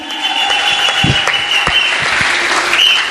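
A church congregation applauding loudly and steadily, many hands clapping close together in a dense, continuous burst with a few sharper individual claps standing out.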